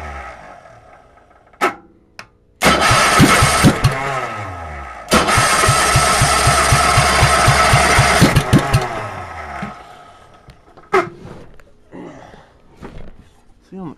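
A cold engine cranks, catches with a loud roar and idles roughly for several seconds, then dies away, followed by a few faint clunks and knocks; no talking.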